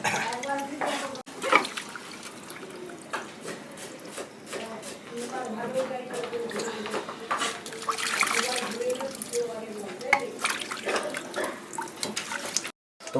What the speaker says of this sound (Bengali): আমি মাছটা ধুয়ে ভালো করে নিয়ে চলে এসেছি